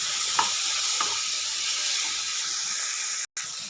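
Tomato and tamarind fry in a pan with a loud, steady sizzle and hiss. A few soft stirring knocks come early, and a brief dropout falls near the end.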